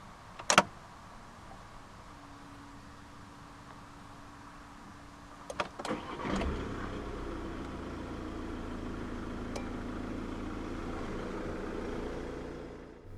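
A click and a faint whir, then a 2015 Volkswagen Jetta 2.0 TDI diesel engine cranks and catches, settling into a steady low idle rumble.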